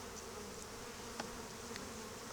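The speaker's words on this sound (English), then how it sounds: "Trying to brush as many of these bees off as I can" Honeybees buzz steadily around a hive during a honey harvest, a soft continuous drone with a few brief louder passes close by.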